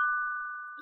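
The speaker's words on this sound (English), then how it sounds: "Was that a doorbell?" A doorbell rings once with a steady, clear electronic ding tone that rings out for nearly a second before fading, then a burst of other sound cuts in at the very end.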